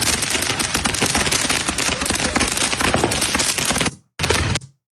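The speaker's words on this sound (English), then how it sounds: "Just lighting fireworks right beside homes." Fireworks go off right beside homes as a loud, dense barrage of rapid crackling bangs. The volley runs unbroken for about four seconds, then stops briefly before a final short burst.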